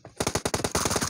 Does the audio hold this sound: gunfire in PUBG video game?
yes